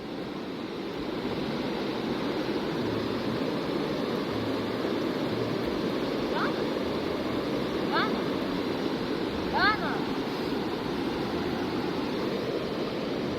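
Steady broadband rush of a river in Georgia near Ananuri, flowing continuously and fairly close, with a few faint bird chirps above it.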